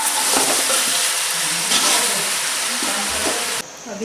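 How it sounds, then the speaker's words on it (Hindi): Chicken and masala with garlic paste fry in a pan, a steady, bright sizzle with some scraping and stirring, loud and close throughout, ending with a sudden drop in intensity near the end. "और तकरीबन 2 से 3 मिनट तक फिर इसी तरह भूनना है।"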